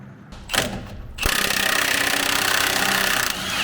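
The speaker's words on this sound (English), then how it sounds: "we are going to go ahead and pop off the Pitman arm" A Milwaukee power tool pops the Pitman arm off a Jeep Rubicon during a lift install, with a couple of short bursts followed by a loud, sustained rattling hammering close by.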